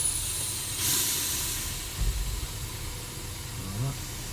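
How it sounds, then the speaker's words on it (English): Air brakes on a tractor-trailer release with a sharp burst of hissing air close by, over a steady idling diesel rumble, with someone speaking briefly afterward. "I'm going to release my brakes to tractor and trailer"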